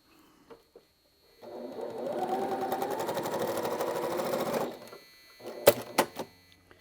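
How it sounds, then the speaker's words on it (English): A sewing machine stitches quilt block units together in one steady run of rapid mechanical whirring lasting about three seconds. Faint handling clicks and a few sharper knocks from the fabric and machine come before and after it. "I need to sew these 3 units together so this can go to the center here"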